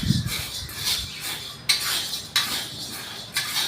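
Sago dry-roasting in a pan being stirred, with scraping, rustling sweeps and a few sharp clinks of the utensil against the pan in an uneven rhythm, close and fairly quiet.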